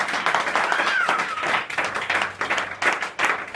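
A church congregation claps in worship to acclaim Jesus, with steady, loud, close clapping that fills the room while voices sound faintly underneath.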